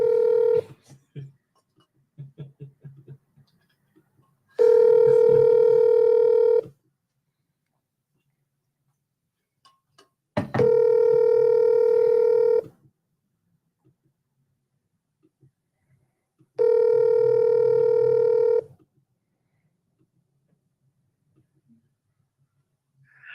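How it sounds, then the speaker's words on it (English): A phone call is placed: a few soft clicks of dialing, then three long, evenly spaced ringback tones, each lasting about two seconds, separated by silent gaps. "I need you to pick up the phone, Mike."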